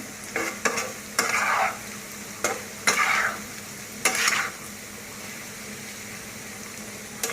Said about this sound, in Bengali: এইভাবে আপনারা ভালোভাবে আস্তে আস্তে ধীরে ধীরে ভেজে নেবেন।